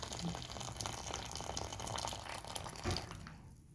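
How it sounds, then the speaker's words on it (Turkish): Hot water poured into a box, a soft steady splashing trickle that runs close and continuous, then fades out at the end. "bu gördüğünüz kutumuzun içine sıcak suyumuzu döküyoruz"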